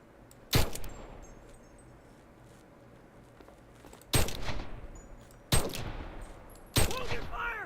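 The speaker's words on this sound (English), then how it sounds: "You're shooting your own men!" Gunfire in the WWII shooter Enlisted: four loud, sharp shots spaced a few seconds apart, each with a short echoing tail, over a quiet background rumble.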